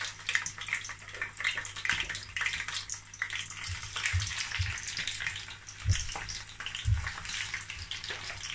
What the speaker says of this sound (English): I'm going to allow it to get hot a bit, and I'll start frying the beef.